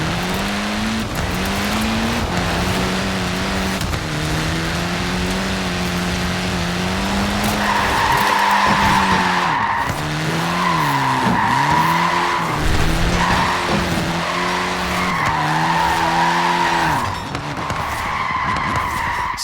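A Mini racing car in Forza Horizon 4 skids and drifts, the engine revving loudly with rising and falling pitch and tires squealing in sustained bursts that come and go.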